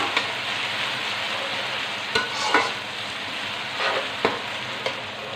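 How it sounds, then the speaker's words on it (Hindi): Ginger garlic paste sautéing with golden brown onions in a pan for chicken tikka biryani, a steady close sizzle broken by a few spatula scrapes and taps. "अब we will add 2 spoon ginger garlic paste. भून लें अच्छा सा।"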